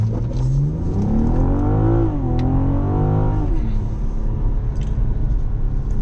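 A BMW M440i xDrive Coupe launches from a standing start, its engine rising loudly in pitch through a rev climb, easing briefly around a shift, then pulling again before settling into a steady drone.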